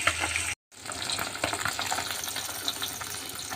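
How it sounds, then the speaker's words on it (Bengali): Small fish frying in plenty of oil in a blackened wok, a continuous bright sizzle and spatter with a brief dropout near the start, then occasional pops. "মাছ ভাজতে দিয়েছি এই মাছটা একটু বেশি তেল দিয়ে ভাজতে হবে"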